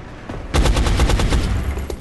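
A rapid burst of automatic gunfire from an XCOM firefight, loud and close, with a single shot just before the volley and a lone shot trailing after it.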